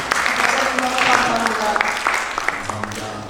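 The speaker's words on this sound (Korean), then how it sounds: "박수로 한번 더." A church audience applauds a visiting pastor at a preaching lecture, a dense burst of clapping mixed with voices that tapers off near the end.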